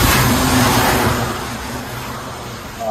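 A car passes close by with a loud, broad engine and tire roar that peaks early and then slowly fades away over a few seconds.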